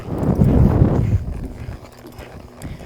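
A horse lopes past in an arena, with a rhythmic dull drumming of hooves loudest at first and then fading to quieter, scattered footfalls.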